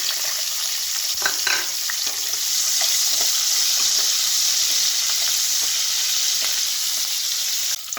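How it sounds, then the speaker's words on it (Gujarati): Capsicum sautéing in a pan for a kaju capsicum masala: a steady, close hiss of frying fills the whole stretch, with a few faint clinks of stirring scattered through and no voices. "એવી જ રીતના આપણે કેપ્સિકમને પણ થોડાક સાંતળી દઈશું।"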